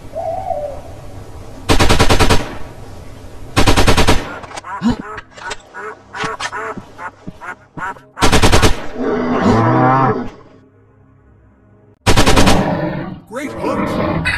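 Sniper rifle shots in the mobile hunting game Dinosaur Park: Dino Park, four loud sharp blasts spaced several seconds apart, with creature calls and game sounds between them.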